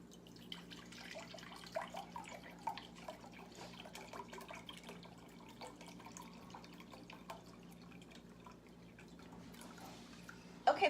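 Broth is poured into a crock pot with a faint, quiet trickle and a few drips, soft and close against low background noise.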